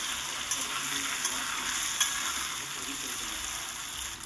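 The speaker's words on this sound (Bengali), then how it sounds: "ভালো করে সব কটা আলুকে আমি লাল করে ভেজে নেব একটু নেড়ে চেড়ে দিলাম" Diced potato cubes frying in a pan, a steady close sizzle with light stirring scrapes for a few seconds.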